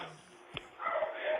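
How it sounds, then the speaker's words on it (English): A dog barks a few times in the background of a live stream, with short yips and a whimpering bark that sit mostly quiet behind the room tone. "sorry for the barking in the background."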